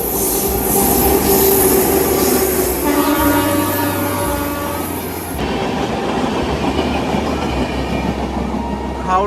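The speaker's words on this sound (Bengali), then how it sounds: "কিছুক্ষণ আগে গেল হাওড়া নিউ দিল্লি রাজধানী এক্সপ্রেস" The Howrah–New Delhi Rajdhani Express rushes past on the rails, loud and close, a continuous roar of wagons with wheel squeal and clatter that shifts in tone midway.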